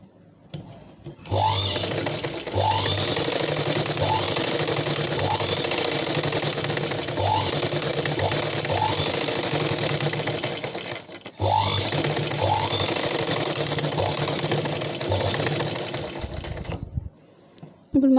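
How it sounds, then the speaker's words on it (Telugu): A sewing machine stitching the neck part onto the front of a blouse runs in a fast steady whir, stopping briefly partway through and again near the end, loud and close with no voice heard. "ఇప్పుడు ఫ్రంట్ పార్ట్కి మెడ భాగాన్ని స్టిచ్ చేసుకోవాలి"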